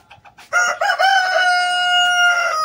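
A rooster crows loudly and close, one long drawn-out call after a few short clucks from pet chickens, with no talk.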